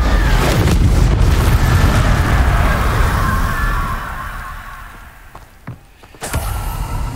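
A Confringo spell explosion in the game Hogwarts Legacy, a loud rumbling blast that rolls on for several seconds and fades, followed by a couple of sharp thuds and a renewed low rumble.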